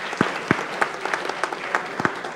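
A seated audience at the final of a physics tournament gives a short burst of applause for the jury, with steady dense clapping and a few sharper claps standing out.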